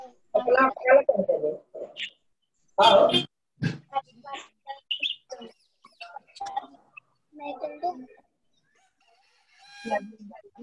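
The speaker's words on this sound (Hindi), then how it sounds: "थोड़ा सा पक्षियों का आवाज सुनेंगे ध्यान से सुनो बच्चों" Recorded bird and animal calls played for schoolchildren, including crowing rooster and clucking fowl sounds, come in short separated bursts at moderate volume, with some voice mixed in among the calls.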